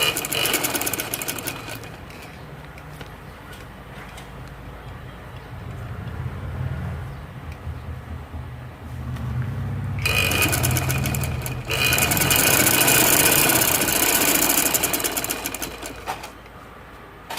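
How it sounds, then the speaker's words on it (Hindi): A sewing machine stitches over an existing seam while making fabric loops, a steady close mechanical whirr that runs softer at first, then speeds up into loud rapid bursts with brief pauses between runs. "इस तरह अब ये जो सिलाई लगी हुई है इसी के ऊपर मैं सिलाई लगाऊंगी।"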